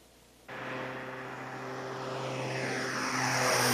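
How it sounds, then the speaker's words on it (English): Aircraft airlifting a child patient 200 miles to a pediatric intensive care unit in Gainesville: after a brief quiet moment an engine roar cuts in abruptly and keeps building steadily louder, close and dominant. "Dr. Gundabda decided to airlift Denise to Shands Hospital's Pediatric Intensive Care Unit 200 miles away in Gainesville."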